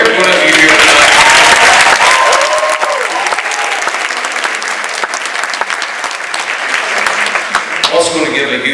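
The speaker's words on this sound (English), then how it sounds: "a big round of applause for every one of you here tonight" An awards ceremony audience for teachers breaks into loud, sustained applause, a dense wash of clapping that stays strong throughout and fades slightly near the end.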